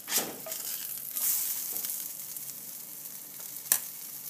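A blintz crepe sizzles softly in a hot pan just after being flipped, with faint steady frying hiss and a few brief scraping sounds.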